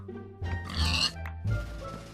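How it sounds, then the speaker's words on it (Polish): Pig from the Minecraft video game giving a couple of short nasal oinks and grunts, close and clear, separated by brief pauses over steady game ambience. "Świnko, świnko, chodź tu świnko."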